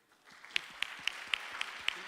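A seated audience at a university faculty research day applauds after a postgraduate research presentation ends. The clapping is fairly faint and sparse, with a few sharper individual claps standing out at a steady pace over a soft background.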